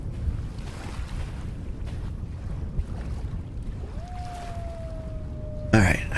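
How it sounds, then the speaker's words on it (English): A wind storm rages through a dark night in the video game Vintage Story, a steady broadband roar of gusting wind running throughout, with a thin whistling tone rising midway and a brief harsher burst at the end. "Dark and windy. Wind hurricane."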